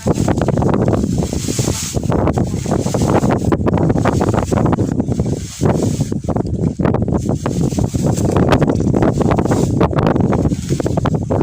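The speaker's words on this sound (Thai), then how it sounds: "ป่าเมื่อนี้ลมดีขนาดเมื่อนี้" Strong, cold wind sweeps across open fields, a loud, unbroken roar buffeting the microphone for the whole stretch with only brief dips and no talk.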